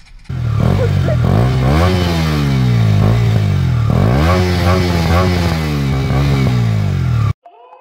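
A KTM 125 Duke 2017 fitted with an Akrapovic exhaust revs loudly and close, its engine note climbing and falling in repeated swells for about seven seconds before cutting off abruptly.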